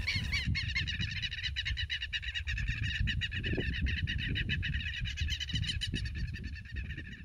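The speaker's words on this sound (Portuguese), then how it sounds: "tá aí um pássaro que é muito fácil de encontrar por aqui, que é o quero-quero" Southern lapwings call repeatedly in open rural countryside in Brazil, their sharp cries carrying over steady low wind or road rumble, with no one speaking.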